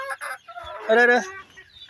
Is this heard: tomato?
no